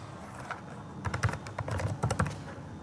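Fingers type on a computer keyboard while entering registration details, with quick, close clicks arriving in uneven bursts that speed up toward the end, and no voices.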